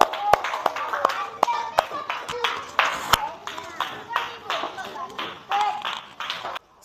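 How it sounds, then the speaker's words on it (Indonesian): Students in a classroom applaud a presenting group with scattered, uneven hand claps, some sharp and close, and voices murmur through the clapping. "Tepuk tangan dulu untuk kelompok 4."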